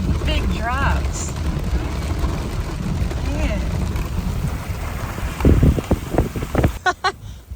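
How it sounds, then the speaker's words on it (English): Hail and big raindrops falling near a dam in spring, a loud steady patter with wind noise, with people talking over it. "It's hailing again."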